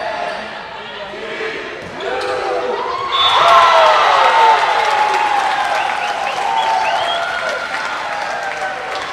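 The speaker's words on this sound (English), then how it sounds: "Student section giving themselves a round of applause on that one." Student section applauding in a gym at a women's college volleyball match between North Greenville and Lees-McRae, clapping and cheering that swells after a few seconds, with shouts and an announcer talking over it.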